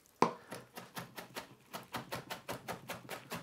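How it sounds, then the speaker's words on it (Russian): A knife chops fresh herbs finely on a board in a quick, even rhythm of about a dozen crisp close strikes, with no talking. "рубим все травы мелко"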